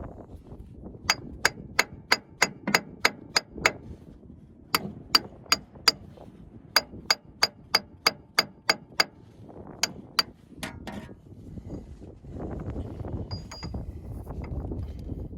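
Sharp metallic hammer strikes ring out in quick regular bursts, a dozen or so in a row, pausing briefly, then resuming before fading into low rumble, as a front crank seal is hammered into place on a New Holland machine.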